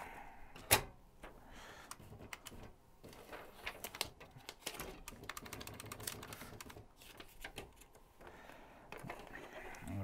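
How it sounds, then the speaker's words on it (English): Paper is fed into an IBM Wheelwriter 50 Series II electric typewriter, giving a sharp clack followed by a run of quiet mechanical clicks, whirs and rattles of the platen and feed, close up and faint overall. "First off, we got to load our paper in."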